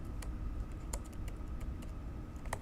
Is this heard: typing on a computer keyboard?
yes